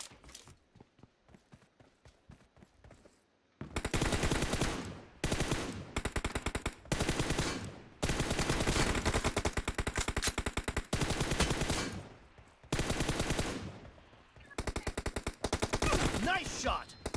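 Automatic machine gun fire in a PUBG Mobile team deathmatch, loud sustained bursts broken by short pauses, with quieter scattered footsteps and gear sounds in the opening seconds.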